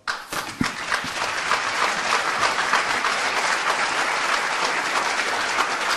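Applause from an audience at a panel discussion on the crisis of capitalism and democracy, starting with a few sharp claps and quickly swelling into a sustained, thick roar of clapping that holds steady.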